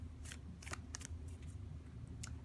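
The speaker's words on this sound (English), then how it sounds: "Seeing a lot of good cards while I'm shuffling for you" Quiet riffle and snap of a deck of tarot cards being shuffled by hand in a reading, several brief crisp bursts spaced irregularly over a low background hum.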